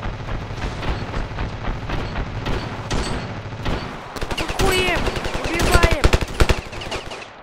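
Gunfire in the Ravenfield shooter game: repeated bursts of rapid automatic shots, sparse at first, then dense and louder toward the end, with booming impacts.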